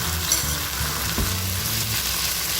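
Marinated meat fries in a pan over medium-low heat, a dense, loud continuous sizzle up close with a few light stirring knocks.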